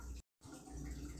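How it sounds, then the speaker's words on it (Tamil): Water is poured bit by bit into gram flour batter being stirred for a Diwali sweet, a steady splashing wash that breaks off briefly into a short silence and then resumes. "இப்போ கொஞ்சம் கொஞ்சமாக தண்ணி ஆட் பண்ணி கட்டி இல்லாமல் இதை கரைச்செடுக்கணும்."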